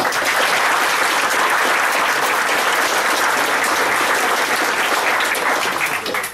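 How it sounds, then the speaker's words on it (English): Loud, dense audience applause at a fan convention panel about the art of Fighting Fantasy gamebooks, sustained evenly throughout with a hall full of clapping hands. "big round of applause, please"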